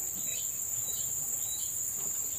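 Crickets kept as fishing bait chirp in a steady, continuous high-pitched trill throughout, close and uninterrupted, with no talk over it.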